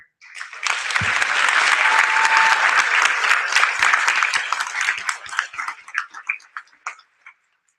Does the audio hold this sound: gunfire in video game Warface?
no